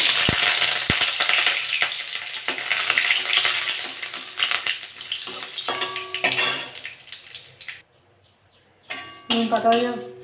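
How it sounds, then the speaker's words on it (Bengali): Neem leaves fry in hot mustard oil in a kadai, making a bright sizzle that fades during the second half, with clinks of a utensil against the pan and a short silence before the end. "তেলটা গরম হয়ে গেছে, আমি নিম পাতাগুলো ভেজে নেব।"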